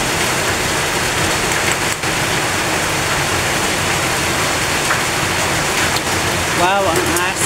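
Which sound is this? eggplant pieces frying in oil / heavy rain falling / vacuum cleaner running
heavy rain falling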